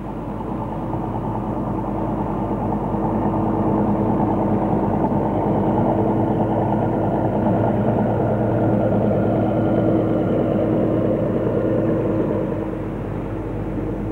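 Motorboat engines in an outer archipelago on a summer day hum in a steady, low droning mass that swells slightly and then eases, heard from a moderate distance with no voices.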